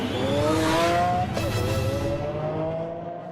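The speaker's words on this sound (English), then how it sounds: "the prototype model takes to the track to be put through its paces for the first time" A Lamborghini Aventador prototype, in 2008, on its first run on a race track, gives a loud engine note that rises in pitch, dips briefly, then climbs again and fades slightly as the car moves away.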